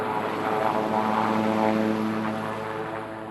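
A helicopter in flight gives off a steady, loud drone of rotor and engine that holds evenly throughout, with no voices.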